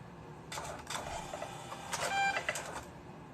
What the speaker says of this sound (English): Come on, printer.